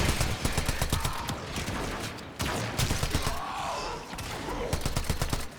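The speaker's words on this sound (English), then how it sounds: "I'm going to try and level up my automatic pistol." Automatic pistol fire in a space ninja video game, with rapid rattling bursts of shots that keep going loud and dense across the whole stretch and break off briefly once in the middle.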